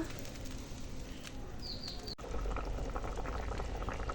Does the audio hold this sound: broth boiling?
yes